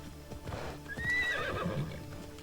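Horse in a video game, a short run of clip-clopping hooves with a high, wavering whinny rising over them, close and fairly quiet.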